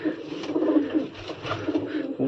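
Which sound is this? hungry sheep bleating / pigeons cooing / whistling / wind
pigeons cooing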